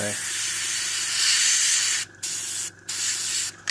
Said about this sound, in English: So I'm just on a bit of cardboard, just spraying out the paint.